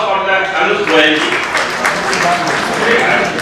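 Dense, steady applause from a seminar audience on audit trail and NBFC topics greets a speaker, loud and continuous throughout, with voices mixed in.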